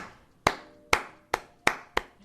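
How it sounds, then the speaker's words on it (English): Six sharp, loud hand claps in a slow, even rhythm, each ringing briefly, with no voices. "Stop clapping! It's too loud."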